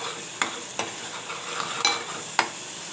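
Ground black masala paste fries in hot oil in a pan for a wild monsoon vegetable dish, giving a steady close sizzle broken by four sharp stirring scrapes, with no talk.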